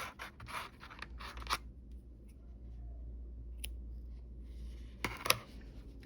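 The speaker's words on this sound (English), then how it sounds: "I'm going to cut these about even." Scissors snip through yarn while finishing a crocheted octopus, with several quick, close, faint cuts clustered at the start and a couple more near the end against a quiet room hum.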